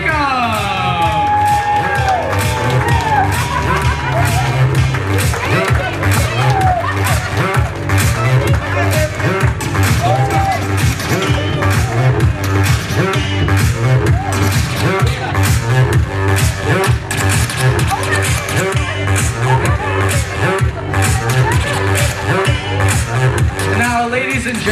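Wedding guests cheer and whoop over a loud, dense crowd din with music underneath, with shouts rising and falling continuously and no clear clapping breaking through.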